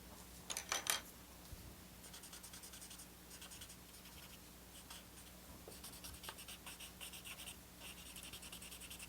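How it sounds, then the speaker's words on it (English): Soft pencil shading across paper for a steampunk drawing, with steady scratchy strokes that run through nearly the whole stretch, sometimes in short fast bursts, close and fairly quiet, with no voice. "I am going to do a little bit of pencil shading."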